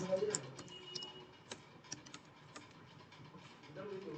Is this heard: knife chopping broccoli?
no